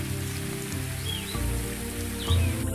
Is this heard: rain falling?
yes